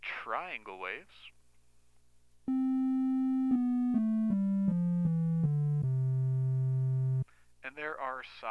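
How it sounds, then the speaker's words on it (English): A triangle-wave tone plays through a speaker as a loud, steady electronic note that steps down in pitch through several held notes over about five seconds, with a person talking just before and after it. "there are triangle waves,"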